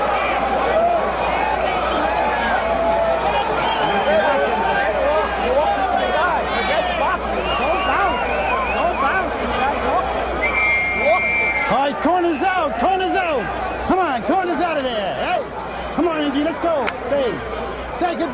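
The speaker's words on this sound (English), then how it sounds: "The crowd has kept up a bedlam since this fight started." Crowd at ringside during a boxing bout between Trevor Berbick and Muhammad Ali, a loud continuous roar of cheering and shouting, with a commentator's voice running over it throughout.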